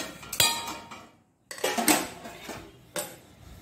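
A metal pot and utensils clink and clatter in a few separate bursts as cooked ingredients are moved into another vessel, close and fairly loud with brief pauses between, no talking.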